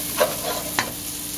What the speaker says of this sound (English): so we give that a stir